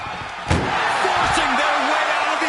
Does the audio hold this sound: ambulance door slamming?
yes